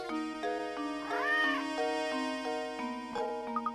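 A grey cat meows in Professor Layton and the Curious Village, several synthesized meows with a rising, wavering cry in the middle, set over a steady tonal game soundtrack.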